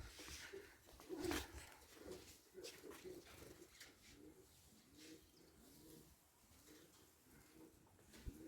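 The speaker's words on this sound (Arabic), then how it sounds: "وحده الحمام، عندي الحمام" Pigeons cooing at home in Morocco, soft repeated low coos in a steady rhythm, fairly faint, with a short louder call near the start and light background noise.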